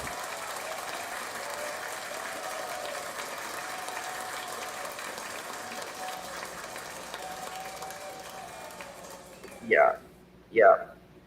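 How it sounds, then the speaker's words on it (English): A handheld clapper toy gives two sharp, close claps near the end, after a long stretch of steady background hum. "If my clapper will work, I will give you a clap."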